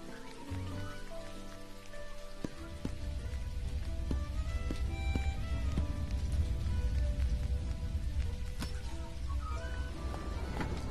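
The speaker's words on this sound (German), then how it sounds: "Und es regnet." Steady rain falling in the farming video game Dinkum, a continuous soft hiss of drops that swells after a couple of seconds and holds, with faint tonal game music and chimes underneath and no voices.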